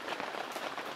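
Steady rain patters densely on surfaces at a campsite on a typhoon day, a continuous close hiss with no voices.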